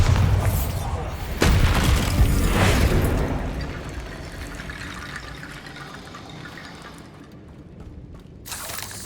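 A Bombarda blasting spell from Hogwarts Legacy goes off with a sudden loud boom and crashing burst, followed by a rumbling, splashing decay that fades toward quiet before another sharp hit at the end; a voice speaks around it.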